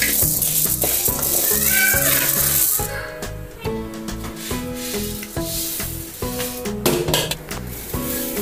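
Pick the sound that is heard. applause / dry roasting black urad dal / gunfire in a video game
dry roasting black urad dal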